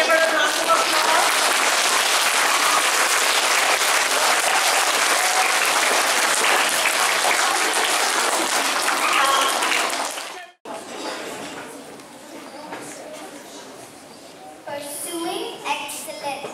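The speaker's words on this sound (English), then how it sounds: "Please give her a round of applause." Students and staff at a Key Stage 1 school assembly give loud, sustained applause for about ten seconds, then it stops abruptly and quieter room sound and brief talk follow.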